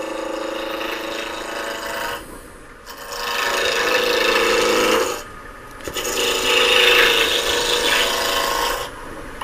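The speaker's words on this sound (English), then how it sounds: "So I'll start again with my roughing gouge." Roughing gouge cutting a spinning wood blank on a lathe while turning a snowman ornament, giving a loud continuous scraping, rasping hiss in long stretches broken by brief lulls, with no voice.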